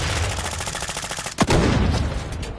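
Rapid gunfire from a decoy grenade in Call of Duty rattles in a dense burst, broken by a sharp loud crack midway, then continues as sustained noisy firing.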